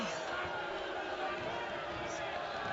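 A crowd sound effect plays during a tabletop role-playing game session: a dense, continuous murmur of many voices, steady and fairly loud throughout the short stretch with no single voice standing out.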